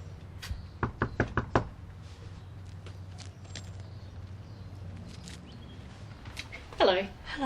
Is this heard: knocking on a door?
yes